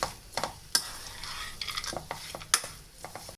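Coconut laddu mixture with pumpkin and cucumber seeds being stirred in a pan, with soft scraping strokes and a few sharper clinks of a utensil against the metal, close and fairly quiet with no talking.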